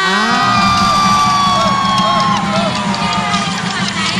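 Audience at a live televised regional competition screams and cheers loudly for the competing teams, a dense burst of shrill shrieks and whoops that stays at full volume throughout.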